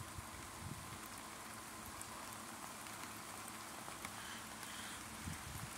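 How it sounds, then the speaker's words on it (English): Heavy rain pours steadily outdoors, a dense, even hiss of drops hammering surfaces at close range with no letup, sometimes pierced by faint sharper splashes. "Now it's pouring out here,"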